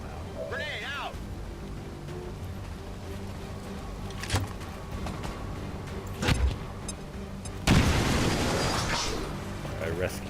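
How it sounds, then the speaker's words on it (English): A grenade blast in the turn-based strategy game XCOM 2 strikes a muton and a building, landing as a loud broad burst late in the stretch after a few sharper impacts, with someone talking throughout. "I'm going to actually throw a grenade right here. It's going to hit that muton, and it's also going to open the building up"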